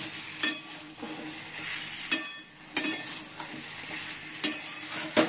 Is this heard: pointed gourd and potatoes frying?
yes